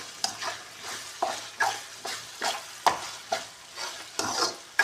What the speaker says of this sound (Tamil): நம்ம வெங்காயம் வதங்கலாம்.